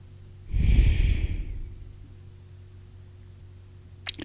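Slow, deep breath during a yoga practice session, a single close, breathy exhale lasting about a second, followed by quiet room tone and a faint click at the end.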